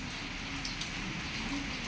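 Steady, dense rain pouring down during a thunderstorm, a constant hiss of drops hitting surfaces with no break.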